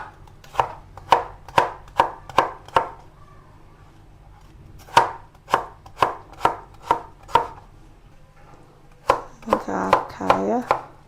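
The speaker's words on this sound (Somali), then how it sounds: "saasan dhamaanteed kusoo wada jarjari doonaa barandhadan oo dhan" A knife chops onions on a board for Somali suqaar. Sharp, close chops come in quick rhythmic bursts of five or six, separated by short pauses, with a faint rustle of handling.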